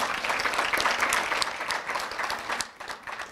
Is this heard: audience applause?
yes